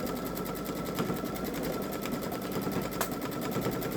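A Babylock Solaris embroidery machine stitches edge-to-edge quilting through a hooped quilt, a steady fast mechanical whirr with regular needle pulses running unbroken and close.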